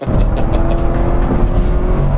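A C5 Corvette Z06 on all-season tires races around a track day circuit, its engine a loud, close, steady roar with a sustained drone and slight fluctuations in pitch.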